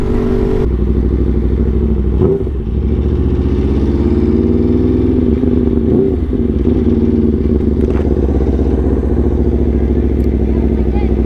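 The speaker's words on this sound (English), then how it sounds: "They're trying to get the most motorcycles started up at the same time." Dozens of motorcycles idle and rev together at a record attempt for the most bikes started at once, a loud, dense engine roar that holds steady throughout, with crowd chatter beneath it.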